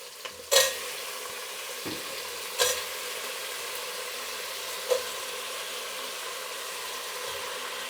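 Vegetables with onion, curry leaves, tomato and crushed garlic frying in a pan for sambar, a steady low sizzle with a few sharp clinks of a utensil against the pan at intervals.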